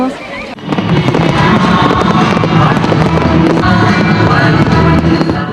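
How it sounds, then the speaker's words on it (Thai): Fireworks crackle and boom without pause over a crowd at the night celebration of Vientiane's 450th anniversary in Laos. The loud, dense bursts continue throughout, with voices mixed in. "เหมือนกับพลุที่ถูกจุดในคืนนี้"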